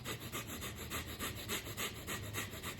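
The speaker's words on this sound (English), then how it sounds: "you're breathing in your nose and out real quick" Rapid, rhythmic breathing, in through the nose and out, with steady quick pulses of airy, rasping noise close to the mic, no talk.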